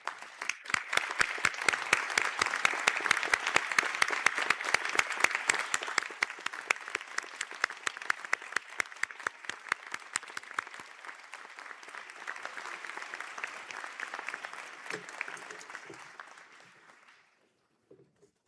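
An audience at a university conferring ceremony applauds standing graduates, a moderate, steady round of many hands clapping that fades out after about seventeen seconds, a little distant in the hall.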